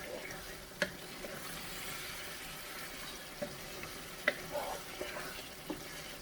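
Meat being stir-fried and braised in a pan, with a soft steady sizzle and a few sharp clicks of a utensil against the pan, close and fairly quiet throughout.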